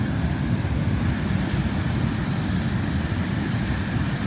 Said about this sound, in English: Look at the waves crashing.